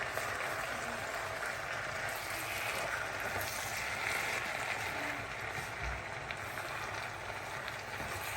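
Turnip greens sizzle in a hot, uncovered pan with a steady, even hiss of frying that holds at moderate loudness for the whole stretch, with no voices over it.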